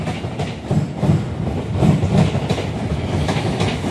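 An LNER train on the London King's Cross to Edinburgh run passes close by with a loud rolling rumble and rhythmic clickety-clack of wheels over rail joints.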